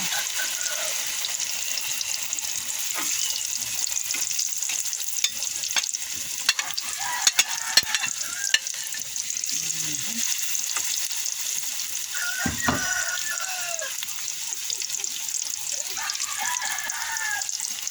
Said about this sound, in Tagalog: nagpiprito na ako guys ng torta